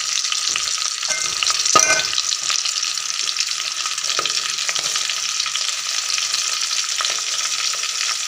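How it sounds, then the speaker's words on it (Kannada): Stuffed brinjals frying in oil give a steady, close crackling sizzle that runs throughout, with a brief louder clatter of stirring or placing near the start and no voices. "ಒಂದೊಂದನ್ನು ಎಣ್ಣೆಯಲ್ಲಿ ಬೇಯಕ್ಕೆ ಇಟ್ಬಿಡಿ"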